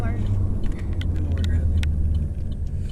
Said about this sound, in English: This is silent, silent compared to a gas car, but a little more noise than a normal electric car